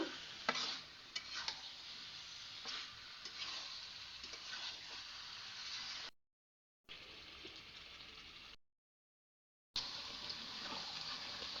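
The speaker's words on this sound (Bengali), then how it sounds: "সপ্তক মুরগি আমি রান্না করতেছি দেখেন আমার কড়াইটা পুরো ভরে গেছে মুরগি দিয়ে" Broiler chicken pieces being stirred and fried with spices in a wok filled to the brim, giving a steady close sizzle with scraping stir strokes, interrupted by two short silent gaps.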